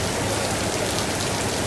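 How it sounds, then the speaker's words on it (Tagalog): Heavy rain pours steadily over Prince Edward Market on Fa Yuen Street, a dense, constant hiss of drops hitting surfaces close by with no voices. "Kasi sobrang lakas ng ulan."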